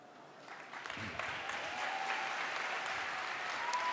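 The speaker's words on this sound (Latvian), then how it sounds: "Aplausi mūsu pirmajiem runātājiem." Audience applause after speakers at a Junior Achievement Latvija event, a diffuse, moderately faint clapping that builds and holds steady, heard somewhat distant with a faint tone in the background.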